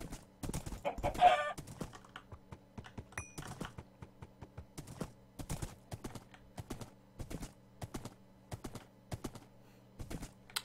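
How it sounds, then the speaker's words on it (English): A Minecraft chicken clucks briefly near the start amid the game's steady rhythmic footstep-like clopping and clicks, fairly close and without speech. "Chicken."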